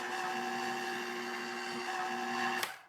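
A blender runs steadily to puree cooked pumpkin, giving a constant whirring motor tone at moderate volume for nearly three seconds before cutting off with a brief click.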